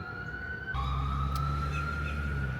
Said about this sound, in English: The accompanying ambulance just went by. That's the fading siren you hear.